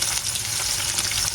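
Chicken sizzles steadily in hot oil, a loud, continuous crackling hiss heard up close with no talking.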